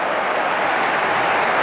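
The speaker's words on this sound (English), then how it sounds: "Good round of applause for young Matt Bryant from his hometown crow" Crowd at a 1993 Bristol City versus Grimsby football match applauds, a steady, even wash of distant clapping from the stands with no commentary over it.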